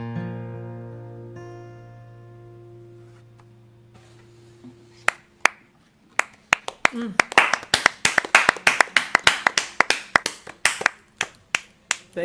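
Clapping after a song, starting as scattered sharp claps and building into a lively burst of several people applauding, following a sustained fading musical note.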